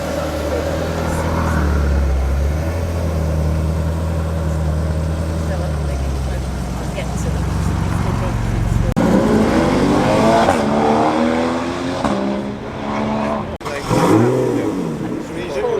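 A Ford Capri with a 2.8 litre engine holds a steady engine note, then revs and swells loudly as it sweeps past close by.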